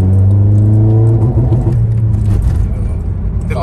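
A Honda Civic Type R FN2 engine revs hard and steadily close by, a loud sustained drone with strong harmonics that holds, then dips and settles toward the end, as if held against a limiter.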